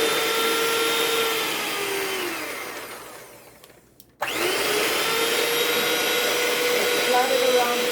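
Electric hand mixer whirring steadily while creaming room-temperature butter for chocolate chip cookies, winding down, stopping briefly, then roaring back to full speed, close and loud.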